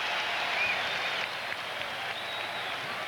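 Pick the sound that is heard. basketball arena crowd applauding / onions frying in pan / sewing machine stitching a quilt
basketball arena crowd applauding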